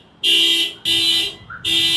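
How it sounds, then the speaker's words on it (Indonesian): A parked car's alarm sounds on a street in the PIK area of Jakarta, loud and close: shrill repeating electronic siren blasts in long pulses with brief gaps, no talking. "ada mobil tiba-tiba alarmnya bunyi nih"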